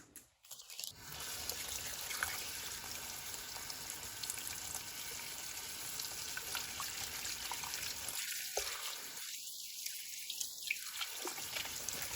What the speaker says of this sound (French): ensuite je vais bien rincer l'intérieur, pas qu'il y ait de terre